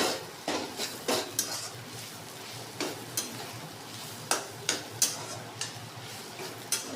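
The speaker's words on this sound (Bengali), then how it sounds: "দেখুন কড়াইতে লেগে লেগে যাচ্ছে, এরকমভাবে ভাজতে হবে।" A spatula scrapes and clinks repeatedly against a kadai while egg, potato, paneer and chicken fry, giving irregular metallic knocks over a faint sizzle.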